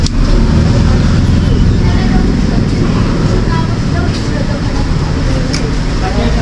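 Cooling fan of a Kevler GX7000 amplifier running as a loud, steady, close broadband whirr with a heavy low rumble, unbroken throughout.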